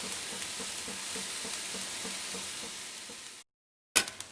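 Grated coconut is stirred and fried in a pan with chillies and curry leaves for coconut rice: a steady sizzle with rhythmic spatula scrapes for several seconds, then a brief silence and a sharp clatter.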